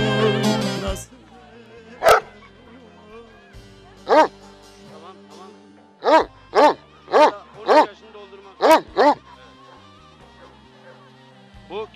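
A 2002-born Kangal dog from Tuz village in Nevşehir barks in a series of loud, close barks, one near the start and a quick run of six or so later on, with someone talking briefly at the beginning.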